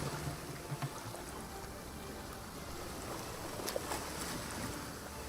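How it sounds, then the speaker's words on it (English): Sailing boat moving through water in the survival game ASKA, a steady wash of water and wind noise at even loudness with no talk. "Man, I hate sailing in this game."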